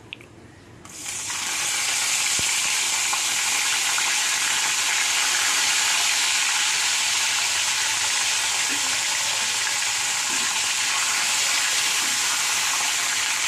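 Garlic and onion paste hits a hot pan and erupts into a loud, steady sizzle that holds evenly throughout, close up.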